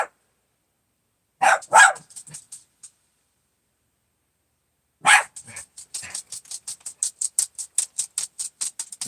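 A dog barks in two bursts, a couple of sharp barks, a pause, then a rapid series of steady, evenly spaced barks, fairly close with no talking.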